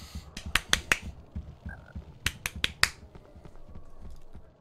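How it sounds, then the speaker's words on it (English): Hand claps from the Harry Potter and the Sorcerer's Stone PS1 video game, with two separate bursts of several sharp claps each, fairly close and crisp over a quiet background. "What is with the clapping"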